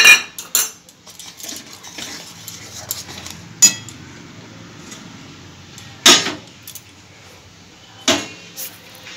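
A metal spoon measures dry coconut into a bowl for kadam phool pitha, giving sharp, close clinks against the dish at irregular intervals, with quieter scraping between them.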